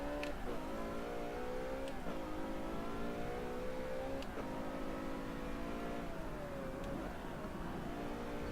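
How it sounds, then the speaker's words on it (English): A 2002 Ferrari Enzo in the racing game Forza Motorsport 7 revs hard, its engine note climbing in steady layered harmonics with a few sharp gear-change dips, loud and continuous with no talk. "Ah, yes, the 2002 Ferrari Enzo."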